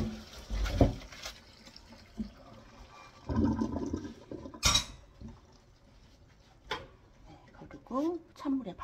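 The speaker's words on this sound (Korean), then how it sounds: "여기 망에다가 취나물을 부을게요." Blanched chwinamul greens are tipped with their hot water into a mesh strainer, a short rushing splash followed by clinks of metal cookware and scattered handling noises, with someone talking intermittently.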